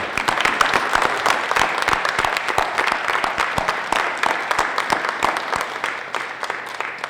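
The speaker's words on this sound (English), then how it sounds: "just give yourselves a round of applause" Audience at a closing ceremony clapping, a dense, lively applause of many hands that holds steady for several seconds before easing slightly, fairly close and loud.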